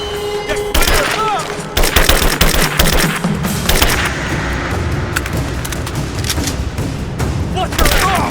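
Bursts of gunfire and booming shots crackle loudly through a firefight in Rise of the Tomb Raider, with shouted in-game voice callouts layered over the rapid shooting.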